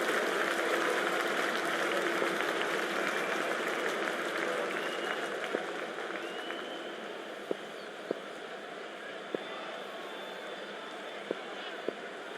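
A crowd applauds in the cricket video game Cricket 24, a broad sustained clapping wash that fades slightly over time, with a commentator talking over it and a few sharp clicks near the end.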